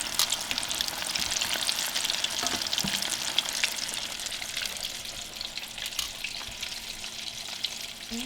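Breaded chicken nuggets, some single-dipped and some double-dipped, fry in hot oil with a dense, steady crackling sizzle that runs loud and unbroken throughout, close up and with no voices over it.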